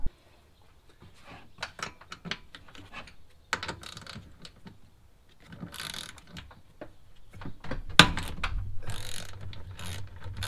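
Intermittent metallic clicks and ratcheting bursts from a wrench loosening a twist nut and Allen screws on a Polaris RZR Pro 4 during a bump seat install, irregular and close, separated by quiet gaps with a louder clatter near the end.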